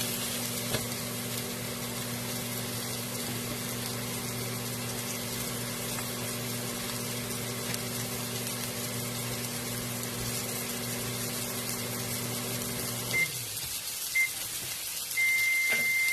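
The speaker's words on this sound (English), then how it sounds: "I'm just going to go ahead and add my chorizo in." Chorizo frying in a pan, a steady close sizzle under a constant background hum that drops away near the end, leaving quieter crackle and a few brief clicks.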